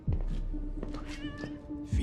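A cartoon cat meows in a scene from the animated series Arcane, with several short, close meow calls over a low background hum and some faint voice.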